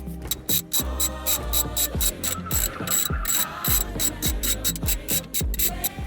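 Ratchet wrench undoing four 10 mm bolts holding a car head unit in a turbo 1JZ JZX100, a steady run of close, crisp clicking strokes repeated in quick bursts with brief pauses.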